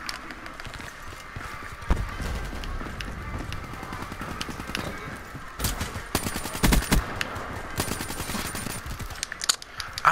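Gunfire in Call of Duty Black Ops III, with rapid automatic bursts and scattered single shots crackling through a busy game mix, strongest in dense clusters toward the middle and end.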